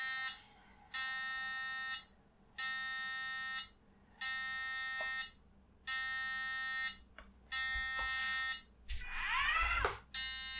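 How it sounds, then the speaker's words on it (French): An Elegoo Mini Car robot's buzzer beeps as it detects an obstacle: about half a dozen loud, shrill, evenly spaced beeps, each lasting roughly a second, followed by a brief squeaky sweep at the end. "vous allez voir la voiture bip,"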